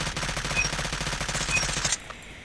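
Rapid bursts of automatic fire from a Type 25 assault rifle in Call of Duty ring out steadily for about two seconds before stopping abruptly, leaving a faint quiet tail.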